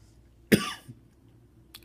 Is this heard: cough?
yes